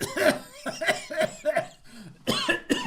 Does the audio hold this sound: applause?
no